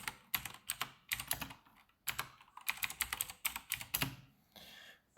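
Rapid bursts of computer keyboard typing in quick clusters with short pauses, close and clear, while a chat message is written during an Arena of Valor match; no talking.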